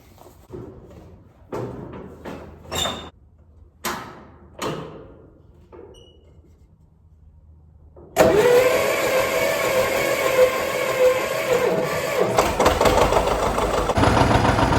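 A tractor on a farm in freezing weather: a few scattered clunks and knocks, then the engine cold-starts abruptly and settles into a loud, steady, rumbling idle that continues to the end.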